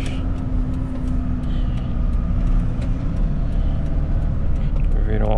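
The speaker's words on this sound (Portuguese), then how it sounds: "Viram o autocarro aí." A bus passes on a city street with a steady engine rumble and traffic noise throughout; faint voices sit beneath the vehicle sound.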